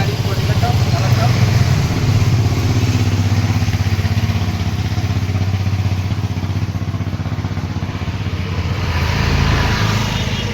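A second-hand BS4 carburettor motorcycle, a Bajaj model, runs with a steady low engine rumble and slight clatter throughout, close by in a showroom.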